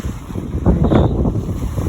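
Wind by the sea, with boats nearby, buffets the microphone in a loud, rough, continuous rush that swells briefly in the middle, with no voices.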